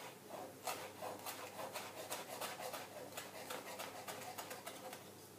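A knife mincing fresh parsley on a cutting board with a rocking motion, making a soft, quick series of rhythmic chopping taps close by at low volume, with no speech over it.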